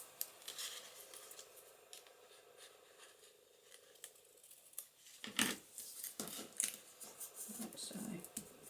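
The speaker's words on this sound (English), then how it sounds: "I need to just trim a little bit off of this" Scissors snip a small strip off the edge of paper for a vellum pocket and paper bag craft, a few quiet close cuts and rustles, with soft talk over part of it.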